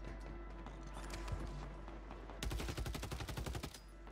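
Gunfire from a battle royale shooter video game: after a low, murky rumble, a rapid automatic burst of about twenty shots rattles out quickly and fairly close for over a second, then stops.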